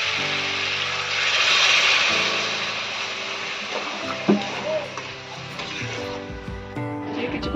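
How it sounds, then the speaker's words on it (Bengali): Water poured into a pan of fried masala for a prawn and kudri curry, a steady wash of splashing and sizzling that swells briefly and then settles into a continuous bubbling hiss. "এখন আমি অল্প করে জল দেবো"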